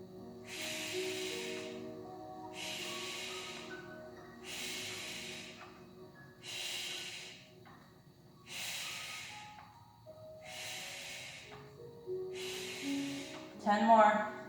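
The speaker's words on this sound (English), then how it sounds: "As we breathe." Seven strong, evenly spaced forceful breaths, each a rushing exhale about two seconds apart, from someone doing a knee-tuck exercise, close and loud over a low background hum.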